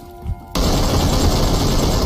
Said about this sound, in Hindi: शॉट फायर करने की कोशिश रेगल्टॉस की तरफ से